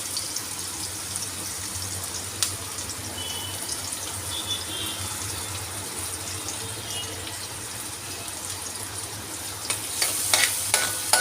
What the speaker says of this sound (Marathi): त्याला थोडंसं परतायचं आहे, जास्त ब्राऊन नाही करायचं आहे आपल्याला